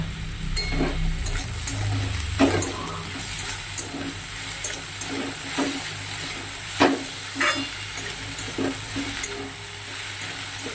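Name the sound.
vegetables with sugar frying lightly in pan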